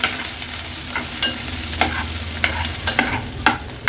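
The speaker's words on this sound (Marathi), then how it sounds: "लसूण आणि कांदा लो फ्लेमवर आपल्याला शिजवून घ्यायचे" Garlic and onion fry in oil over a low flame, giving a steady close sizzle broken by a spatula scraping and tapping the pan every half second or so. No one speaks.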